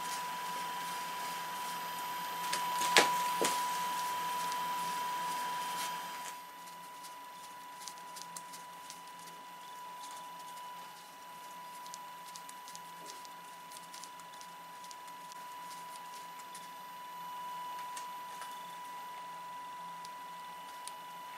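Internal thread being single-point cut with a Wohlhaupter boring and facing head and a lathe internal threading tool, a steady machine whine with a sustained tone and light rhythmic ticking, a brief louder scrape early on, then quieter continuous running.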